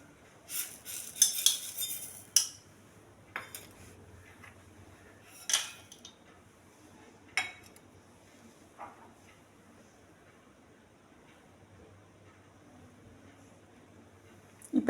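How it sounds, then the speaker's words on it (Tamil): Fruits, honey and sugar are mixed in a bowl for panjamirtham, heard as scattered metal spoon clinks and scrapes against the vessel, quiet and intermittent with long hushed gaps. "இப்போ இது எல்லாத்தையும் நல்லா மிக்ஸ் பண்ணி விட்டுறலாம்."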